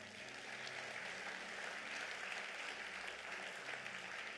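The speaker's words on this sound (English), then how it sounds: "let's give God a mighty clap of praise" A church congregation claps in praise, a dense, continuous wash of applause from many hands, even and fairly distant, with no talking over it.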